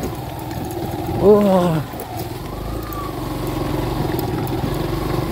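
A motorcycle engine runs steadily on a narrow road, a continuous mid-pitched drone throughout, with a brief exclamation from a rider over it.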